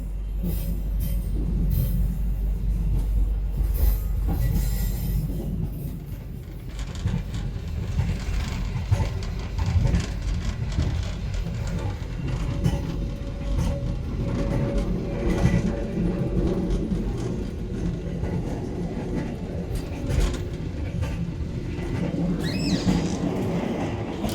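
Inside a Taksaka New Generation passenger train on the move, a steady low rumble fills the car, with faint rail clatter and occasional creaks and knocks throughout.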